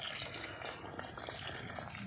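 Water pours in a steady gushing stream onto plants in a home garden, a soft continuous rush heard alone at low level.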